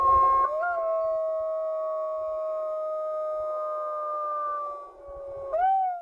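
Golden jackals howl in a long, sustained tonal call from the wild in northern Belluno province, Comelico, Italy. Steady wavering howls hold for several seconds, then a short rising yip breaks in near the end, with quiet background and no talk.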